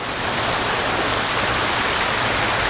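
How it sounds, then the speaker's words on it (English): Water ripples down a garden water feature edged with sweet flag grass, giving a steady, close, hissing splash and trickle that stays even throughout with no voices. "the water ripples down"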